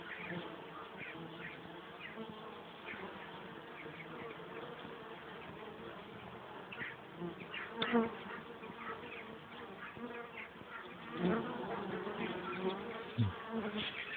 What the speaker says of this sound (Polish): Czas po czasie jakaś pszczoła przyniesie pyłek.